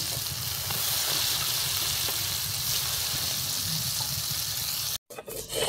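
Rohu fish sizzles steadily in a hot pan as it is fried with spices, a dense, even crackle that continues without a break and then cuts off abruptly near the end.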